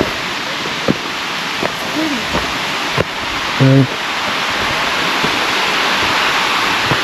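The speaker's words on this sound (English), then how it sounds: "Look at the waterfall." An outdoor waterfall gives a constant broadband rush of falling water that holds steady throughout, while nearby people talk briefly over it and a few short knocks break through.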